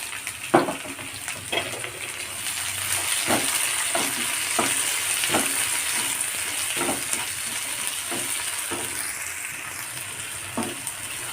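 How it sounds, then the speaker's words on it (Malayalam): Two finely chopped tomatoes fry in a pan for a chutney, a continuous close sizzle punctuated by a dozen or so sharp spatula scrapes and taps as the mix is stirred, with no voices. "ഇതിലേക്ക് ഞാൻ ഇട്ട് കൊടുക്കുന്ന തക്കാളിയാണ് രണ്ട് തക്കാളി ചെറുതായിട്ട് അരിഞ്ഞെടുത്തത്"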